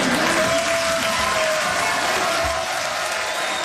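Jeers and shouting from a crowded public gallery during a governor's address, a loud, continuous wash of crowd noise with no break.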